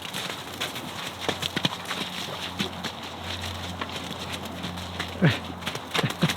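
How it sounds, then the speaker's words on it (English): Rhythmic hoofbeats thudding on soft ground, quick and uneven as horses move about, with occasional faint voices in the background. "this is how you lunge a horse."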